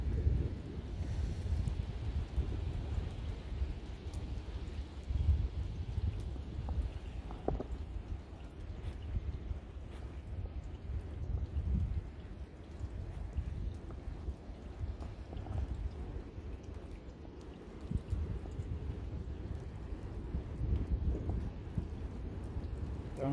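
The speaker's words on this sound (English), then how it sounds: "That's the wind hitting the top of the mountain." Wind gusting across the top of Mount Washington, a low continuous rumble and buffeting against the microphone that swells and eases throughout.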